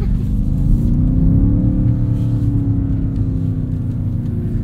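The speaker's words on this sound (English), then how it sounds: "the S68 in this has a little bit more of a unique noise. They've put like a different exhaust on this car." A 2024 BMW XM Label Red with an S68 engine and a distinctive exhaust accelerates up close. A loud, continuous engine roar climbs in pitch with no talking over it.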